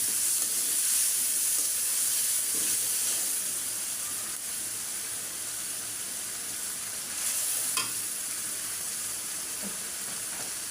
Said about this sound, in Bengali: মশলাটা ভালো করে একটু কষায় নিব।